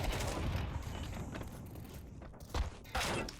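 Shotgun blasts in a video game, a few sharp booming shots near the end after a stretch of dense rumbling noise, loud and close.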